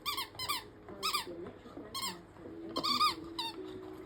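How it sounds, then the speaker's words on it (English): A dog chews a squeaky toy late at night indoors, producing repeated sharp, high squeaks in quick bursts with short pauses, close and clear, with faint household noise underneath. "thank you to our lovely neighbour for buying us a squeaky toy, which Millie has now decided at blooming 10"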